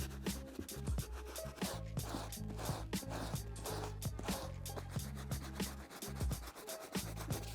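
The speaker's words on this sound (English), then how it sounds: "I did one quick pass over with the soft bristle brush" A soft bristle brush scrubs a dirty mesh Salomon sneaker in steady, rhythmic strokes, close up. A faint tonal background runs underneath, and no one speaks.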